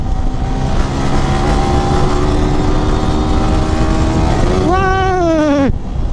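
A Yamaha R15 V3 motorcycle rides a rough road with a loud, steady engine drone close by, then revs upward in a sharp rising whine before the sound cuts off abruptly.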